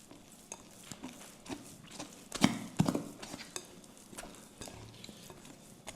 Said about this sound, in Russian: Во время замешивания мы берем тесто, подхватываем и вот так вот бросаем.